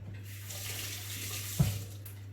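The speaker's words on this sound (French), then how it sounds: "là, je vais me rincer les mains" Hands rinsed under a running kitchen tap while baking a chocolate cake, a soft steady stream of water with a brief splash near the end, quiet and close with no voices.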